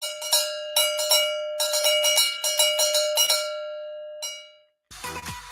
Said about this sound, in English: Let me ring these bells for you